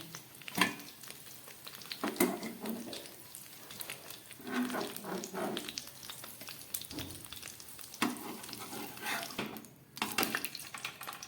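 Steady frying sizzle of eggplant in a pan with occasional scraping and stirring clatter, continuous throughout at moderate volume, no talking.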